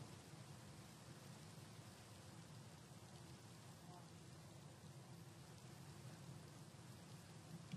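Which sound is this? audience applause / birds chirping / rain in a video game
rain in a video game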